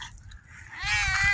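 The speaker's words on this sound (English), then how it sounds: "Our neighbor's cat is back." A cat meows once, a drawn-out, rising, close and fairly loud cry that follows a softer, breathier sound, with low rumbling in the background and no talk.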